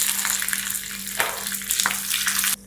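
Green chilies sizzle and crackle loudly and continuously in hot oil, with a couple of sharper bursts as something is stirred, then the hiss suddenly drops.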